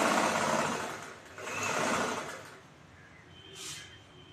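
A sewing machine stitches blouse neck pieces together, with two bursts of whirring stitching close by, easing off after the second, followed by a short higher-pitched whirr.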